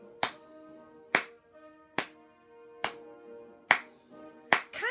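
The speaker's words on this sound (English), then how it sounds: "So if I clap every 2 beats, let's see if I'm in the beginning of what feels like every measure." Sharp single hand claps land at an even, unhurried pace, six in about five seconds, over a background of sustained musical tones, close and crisp.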